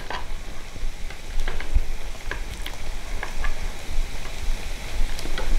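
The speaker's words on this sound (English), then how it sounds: "We are going to flip the mogo and make sure it fries on both sides" Cassava (mogo) pieces frying in oil in a pan, a dense, continuous sizzle with crackling pops scattered throughout, close and steady with no talking.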